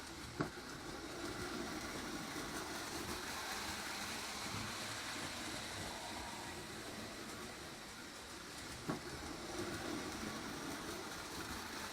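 A reconditioned Lionel 254 prewar toy electric train runs around track with curves, making a faint, steady whirring rumble with a couple of soft clicks, heard alone.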